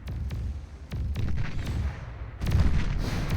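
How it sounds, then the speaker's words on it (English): Rocket salvo from the Janus unit in Beyond All Reason, a string of sharp booming launches and blasts in quick succession, loud and close, with a heavier burst near the end and no talk. "Janus fires away, and with its twin rocket salvo manages to shut those down"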